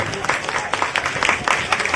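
Crowd applause at an Independence Day dog show performance, a busy burst of clapping from a large outdoor audience with some voices mixed in, lasting a couple of seconds.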